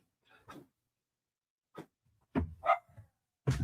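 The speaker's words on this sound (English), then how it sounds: "there's my dog sounding off his disapproval." A dog barks several times in short separated bursts, moderately close and otherwise alone in a quiet room.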